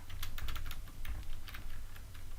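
Rapid, steady clicking of keys as HTML is typed on a computer keyboard, close and continuous with no voices.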